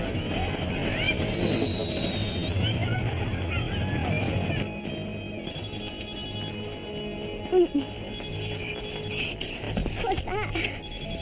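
A telephone rings indoors at night in a bedroom, a steady high electronic tone with repeating bursts, heard beneath a dense background hum and a brief spoken question.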